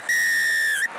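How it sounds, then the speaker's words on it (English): A referee's sharp, sustained whistle blast ending a women's rugby union match between France and Scotland, one long loud steady tone lasting most of a second, heard clearly with faint stadium background. "Here's a full-time whistle."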